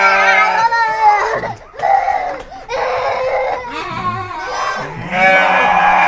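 Dorper sheep bleat loudly and close by on a farm, with several wavering, overlapping calls that follow one another with short breaks in between.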